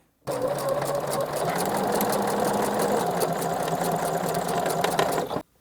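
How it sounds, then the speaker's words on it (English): A sewing machine fitted with a braiding foot stitches braid down along a fabric edge, running in one continuous, even, close whir for about five seconds with no talking. "So it really does sew that down with the perfect stitches along that edge"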